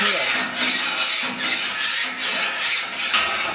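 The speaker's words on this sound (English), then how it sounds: "At this point is where I'd be scraping and removing any debris" A metal scraper scrapes grease debris off a restaurant kitchen exhaust hood in about seven steady, rhythmic strokes, each a close, harsh rasping scrape.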